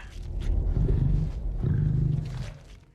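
A zombie tiger from the series Kingdom: Ashin of the North gives two deep, rumbling roars, each about a second long, loud and close, with no voices over them.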